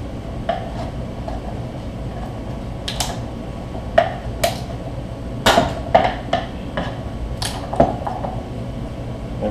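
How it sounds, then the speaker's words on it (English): Small screwdriver prying a glued wooden wing rib for a Flying Flea aircraft out of its jig: scattered sharp clicks, snaps and wooden knocks, close and fairly quiet, irregular over several seconds. "Just going to use a little screwdriver to help pry it up"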